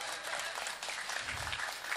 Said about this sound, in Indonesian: Tepuk tangan buat Paku karo Padewan.